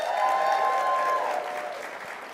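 Crowd at a live sales event applauding a new top earner, a steady wash of many hands clapping, with a faint cheer or whoop near the start, tapering slightly toward the end.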